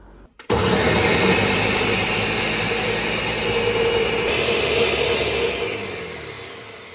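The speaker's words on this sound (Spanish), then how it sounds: "Y vamos a licuar." A blender whirs loudly and steadily for several seconds, liquefying green enchilada salsa with about three teaspoons of cream, starting abruptly after a brief quiet moment and easing off slightly toward the end.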